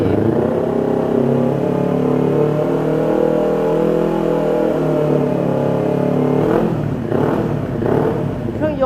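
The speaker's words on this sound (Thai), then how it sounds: "รอบเครื่องยนต์ครับอัตราเร่งดี" A 2017 Kawasaki Ninja 250 fitted with an aftermarket Akrapovic-style exhaust revs close by, a sustained loud engine tone that dips and rises, then breaks into a few sharp throttle blips near the end.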